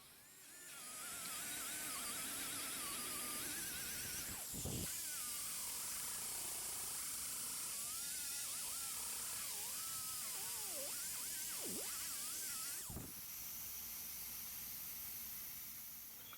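A purple abrasive wheel grinds old seam sealer off a Toyota door, a steady high hiss and whine with shifting pitch as the wheel loads and unloads, broken by two brief sharp bursts, no talk over it.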